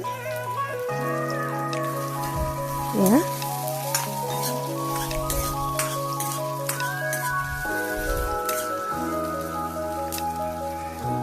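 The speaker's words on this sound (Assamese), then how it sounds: "এয়া তেলতে পিঁয়াজখিনি দি লৈছোঁ। দি অকণমান মানে পিঁয়াজখিনি ক্ৰিস্পি হোৱালৈকে ভাজিম" Sliced onions fry in hot oil toward crispness for chicken dum biryani, a dense continuous sizzle with crackling spatter, steady and close, with a brief spoken word.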